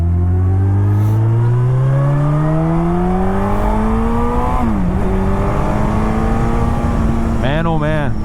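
A 2001 Suzuki Hayabusa GSX1300R engine climbs steadily in pitch while accelerating hard in second gear, then a brief dip and a rising howl, loud and close with wind rush throughout.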